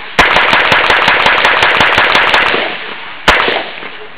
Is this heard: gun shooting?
yes